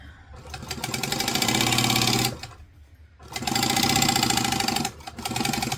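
A sewing machine stitching waterproof canvas in two long, steady runs with a rapid mechanical chatter, separated by a brief pause, then a short final burst.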